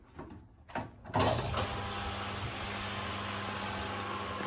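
An electric shower in a hotel cottage bathroom starts with a couple of clicks, then its water bursts on and hisses in a steady, close, rain-like spray.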